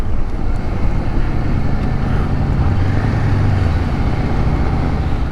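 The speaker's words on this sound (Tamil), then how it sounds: "பாருங்கள், ஃப்ளாட் டயராகவே வண்டி ஓடிட்டுருக்கு" A Ducati Desert Sled motorcycle riding on a flat tyre on an off-road forest trail, a constant rumbling roar of engine and wind buffeting the microphone.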